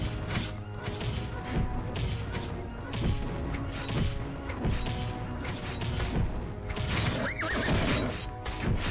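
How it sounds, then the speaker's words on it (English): Horse neighs and whinnies with clip-clopping hooves and thuds in the Flash video game Epic War, a busy continuous battle mix, with a voice speaking quietly under it. "Horse noises."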